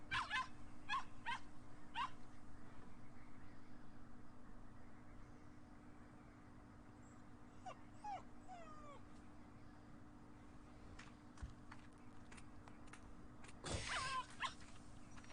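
Dog whimpers and yelps from a puppy on a rope in the horror game Ring of Rose, heard as scattered short cries over a steady droning game soundtrack, with a louder burst near the end.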